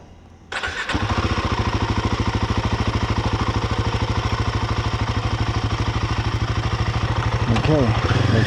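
A motorcycle engine starts and settles into a steady, loud, close idle with an even pulsing chug, sustained to the end, before a ride through Kuta, Lombok.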